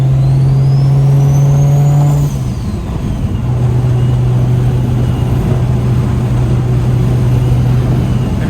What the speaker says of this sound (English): This turbo is louder, man.